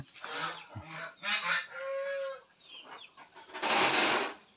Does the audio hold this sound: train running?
no